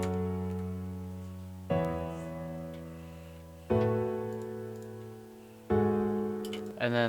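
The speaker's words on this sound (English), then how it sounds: "I finally found a progression that I like for the piano" A lofi piano chord progression built in FL Studio plays alone: four soft chords, each struck and left to fade for about two seconds before the next, with a quick extra chord at the end.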